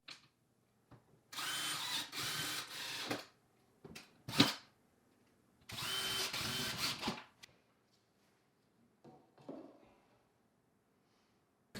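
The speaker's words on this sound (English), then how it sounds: "So don't forget to pre-drill, kind of wallow out the hole and in all 4 corners." Power drill working into cement backer board in a walk-in shower, with several short whirring bursts of a second or two each, separated by quiet gaps and handling knocks, fairly close.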